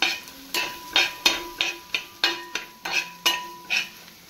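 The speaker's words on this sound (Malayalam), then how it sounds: "ഇനി നമുക്കിതൊന്ന് ഇളക്കാം കേട്ടോ." Stirring spices, including turmeric, in a cooking pot for chicken biryani: a steady series of about ten sharp metallic spoon scrapes and knocks against the pot, evenly spaced and close, with no voices.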